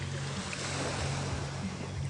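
Steady wash of sea waves at the seaside, a continuous broad rush with wind across the microphone, moderately loud and unbroken.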